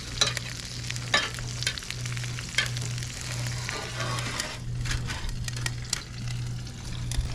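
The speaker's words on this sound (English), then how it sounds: "I'm gonna give it a little bit of a baste" Wagyu steak basted with garlic in a hot pan, a steady sizzling and spattering crackle with scraping and clinking of the spoon, close up and moderately quiet, no voices.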